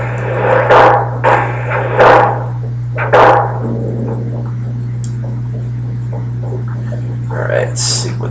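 A dog barks in the Secret of Evermore video game, with several short sharp barks in the first few seconds over a steady low hum, followed by quieter background sounds and a faint high tone.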